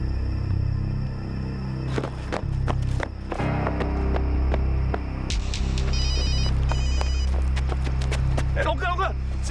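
A telephone rings in short repeated bursts during a tense indoor scene, the ringing sitting under voices and a low steady background rumble.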